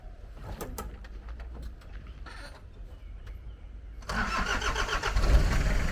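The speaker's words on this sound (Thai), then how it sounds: "สตาร์ทเครื่องยนต์ด้วยหน่อยครับ" A classic car's engine, a car for sale, cranks and catches partway through, then runs with a loud, steady idle close by. Quieter background noises and a few knocks come before the start.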